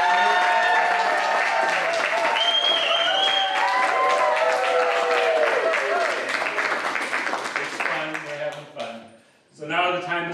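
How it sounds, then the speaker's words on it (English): Audience applause at a live theatre talk show, dense clapping filling most of the stretch alongside a voice and some whistle-like tones, then thinning out and breaking off near the end before a brief return. "give a well applause for"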